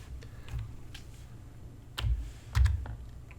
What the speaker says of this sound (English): Ordering cost is, I'm just going to type this in for you